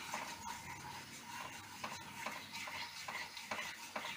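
A spoon scrapes and stirs sugar in a pan as it melts for coconut laddu, soft repeated rubbing strokes with occasional sharper scrapes, close and fairly quiet.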